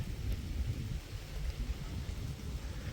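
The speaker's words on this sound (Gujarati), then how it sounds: "તો વરસાદ ધીમો ગતિએ ચાલુ થયો" Light rain falls at a farm, a faint, even patter and hiss that stays steady through a short stretch with no voices.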